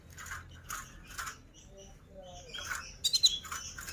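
Weaver birds (manyar) chirping indoors in short repeated bursts at close range, with a few sharper squawk-like calls near the end.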